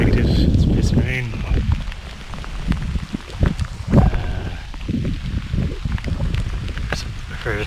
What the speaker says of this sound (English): As I predicted, it's pissing rain.